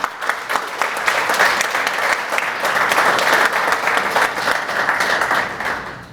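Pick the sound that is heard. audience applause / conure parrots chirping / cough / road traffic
audience applause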